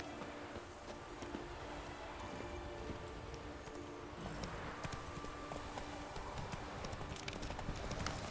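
Horse galloping in the video game The Witcher 3, rapid rhythmic hoofbeats on a road, fairly faint and continuous with a steady ambient bed behind them.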